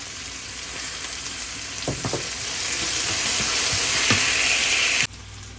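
Ginger garlic paste sizzles steadily in a frying pan, a broad close hiss that swells slightly, with a few scraping clicks of a spoon before it cuts off abruptly near the end.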